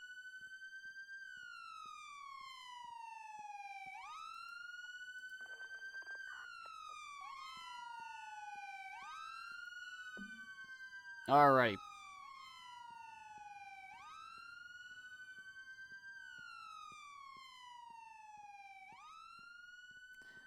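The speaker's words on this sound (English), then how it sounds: "Oh, so many sirens." Several police car sirens wailing together in a video game set in Dallas, long rising and falling sweeps overlapping steadily and moderately loud, with one brief sharp burst midway and a single short spoken word.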